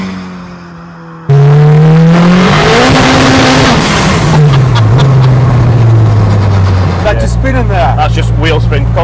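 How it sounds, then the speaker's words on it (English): A 540bhp Vauxhall Chevette sleeper accelerates hard with constant wheel spin, its engine note rising loud and close through gear changes with a roaring, rasping pitch over about nine seconds, people talking underneath. "Constant wheel spin."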